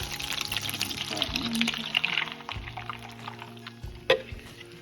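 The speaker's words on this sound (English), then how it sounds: "we'll pour the batter into the pan" Pancake batter poured into a pan of hot, bubbly melted butter for German oven pancakes, a soft liquid pour and gentle sizzle heard close up, with quiet voices talking and a clatter near the end.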